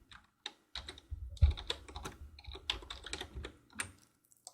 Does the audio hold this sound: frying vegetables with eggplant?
no